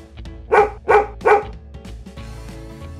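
A dog gives three loud, evenly spaced barks close by, over a light musical backing.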